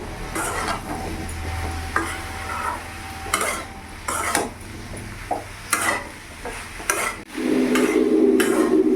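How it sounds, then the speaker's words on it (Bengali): Spoon stirring soybean, potato and papaya vegetarian curry with cumin powder in a pan, scraping sounds in irregular strokes over a steady low sizzle, with a louder frying hiss toward the end; close and moderately loud, no talk. "এবার ভালো করে আমি নাড়াচাড়া করে একসাথে সবগুলোকে মিশিয়ে নেবো"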